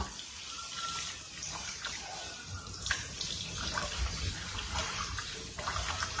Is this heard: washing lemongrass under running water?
yes